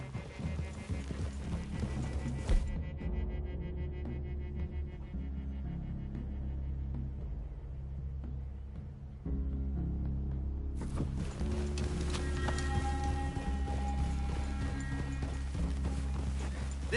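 Horse hooves clip-clop at a walk in Red Dead Redemption, a rhythmic clatter heard over a low rumbling game ambience and music that drops out and returns partway through, with no talking.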